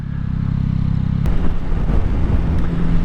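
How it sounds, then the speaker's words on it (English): A Yamaha Tracer 9 GT+ motorcycle engine idles with a steady low throb, then revs up and runs rougher and louder, close to the microphone. "I love the sound of the engine."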